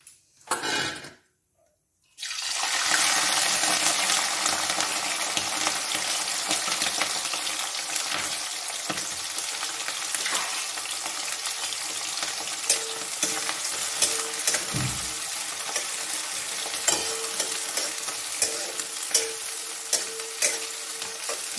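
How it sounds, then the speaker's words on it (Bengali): After about two seconds of near silence, small shrimp hit hot oil and burst into a loud, continuous sizzle. The frying crackle holds steady, with occasional stirring clicks and clatter from the pan, and no speech. "তেল গরম হয়ে এসছে, আমি এবারে কুচো চিংড়িটা তেলে আমি দিয়ে দিচ্ছি।"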